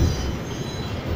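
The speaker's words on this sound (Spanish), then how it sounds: "Tres locomotoras, tolvas cargadas con piedra, más vagones cargados con pinos." A freight train with three locomotives hauling loaded stone hoppers and pine-log wagons rumbles past close by in Argentina, steady loud rolling noise with wheel clatter and low rumble throughout.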